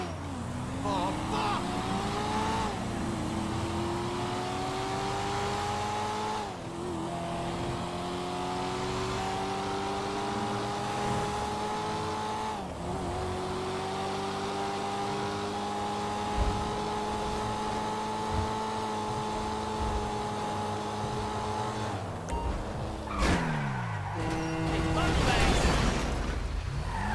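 A car engine drives through GTA 5, holding a sustained hum that repeatedly rises in pitch as it accelerates and drops at each gear shift, with a voice shouting over it near the end.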